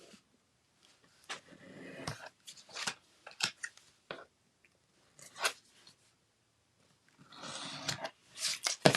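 Scissors snipping a paper flap, quiet and close, in scattered short cuts with gaps between them and a cluster of faster snips at the end.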